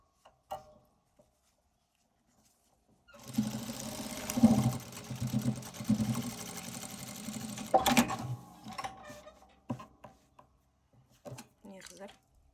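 A sewing machine stitches across the zipper of a cover being sewn, running in a steady motorized burst for several seconds after a quiet start, with a few small handling clicks at the end.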